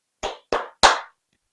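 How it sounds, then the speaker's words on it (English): Three sharp hand claps in quick succession, close and clear, each a crisp burst with silence between, the last slightly louder. "Clap your hands."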